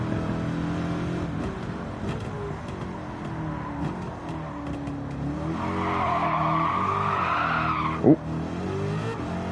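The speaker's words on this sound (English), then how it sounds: "I love the way the engine sounds when you change cameras" A race car in Gran Turismo 7 drones with a steady revving engine, then its tires squeal in a rising skid before a short sharp bump, with a brief exclamation near the end.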